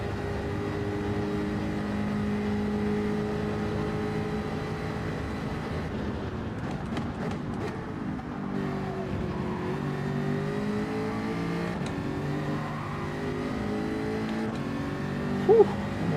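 Jaguar car in the Gran Turismo 7 racing game, engine revving steadily with shifting pitch across a sustained drone, rising and falling through gear changes and never pausing.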